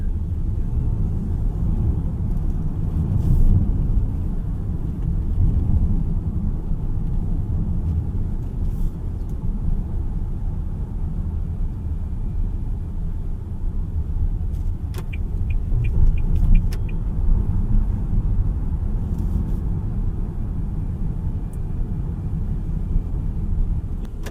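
Cabin sound of a 2026 Toyota Urban Cruiser GLX BEV on a drive: a steady low rumble of road and electric drive that runs for the whole stretch, with a few faint clicks partway through.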